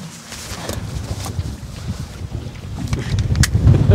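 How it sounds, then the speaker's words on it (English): Strong wind buffets a boat at sea, a loud gusting roar with microphone rumble that swells and intensifies toward the end, without talk. "Yeah, this is pretty windy."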